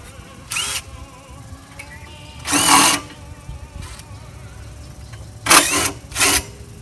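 Several short bursts of a power drill whirring, each lasting under a second, separated by quiet gaps with faint background noise.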